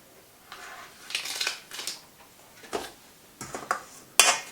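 Apple pieces for an apple pie are tossed into a pan, making several scattered clattering bursts of varying loudness, with a sharp final clack and quiet gaps between them.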